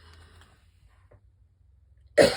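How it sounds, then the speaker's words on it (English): Near silence with faint rustling, then a single sudden, harsh cough bursts out close by at the very end. "I may cough anyway."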